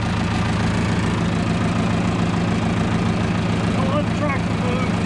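A Case David Brown 995 tractor engine idles steadily and loudly throughout, with a constant low rumble and knock, while people talk faintly over it.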